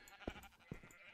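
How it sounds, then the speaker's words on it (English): Sheep in the video game Minecraft bleat twice in quick succession, short faint calls close together over a quiet background. "these sheep are like crowding around here all of a sudden"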